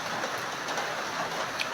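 Steady rain falls in a dense, even hiss of drops on surfaces, moderately loud and unbroken throughout the short stretch, with no voices.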